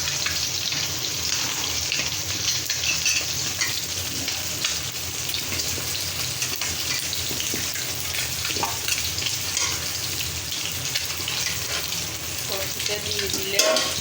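Cauliflower pieces with tomatoes sizzle steadily in a hot pan for a fish-head cauliflower curry, with a constant frying hiss and occasional soft scrapes and clinks as the mix is stirred.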